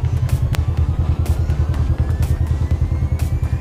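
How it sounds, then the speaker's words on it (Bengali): A motorbike rumbles steadily downhill on a steep, winding mountain road near Lungsel in Kalimpong district, the engine loud and close with a continuous pulsing drone and faint rattles, no voices. "তাই খুব সাবধানে বাইক চালাতে হচ্ছে আমাকে"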